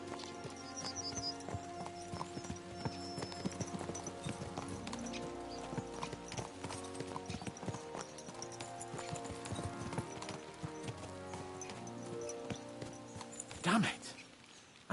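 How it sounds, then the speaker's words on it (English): Horse hooves clip-clop at a steady gallop rhythm in the medieval video game Kingdom Come: Deliverance 2, with the beat running throughout over a bed of game music and a brief louder burst near the end. "Let's really spur these horses on, eh?"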